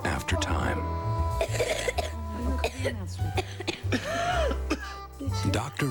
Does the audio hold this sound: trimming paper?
no